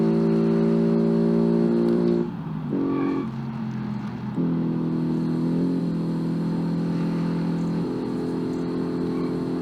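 A rally-style coupe with a 2.2-litre engine driven in the car-building game Automation hums with a steady harmonic engine tone, dipping and shifting pitch briefly around gear changes before settling into a sustained drone.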